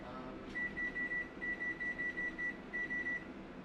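A kitchen timer being set in a home kitchen gives a run of faint, quick high beeps in short evenly spaced groups over a low steady background hum.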